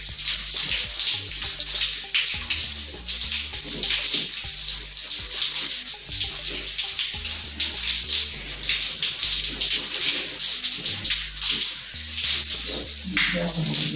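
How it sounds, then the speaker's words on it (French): Tap water runs steadily and loudly while hair is soaked during a wash, a continuous close splashing stream that fills the whole stretch without a break. "Bien mouiller mes cheveux."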